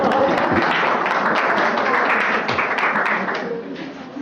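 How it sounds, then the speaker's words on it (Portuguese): An audience at a municipal talk breaks into dense, sustained applause that fills the room evenly, then thins slightly toward the end under the crowd's noise. "Vou aplaudir. Aplausos."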